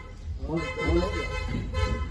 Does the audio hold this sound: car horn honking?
yes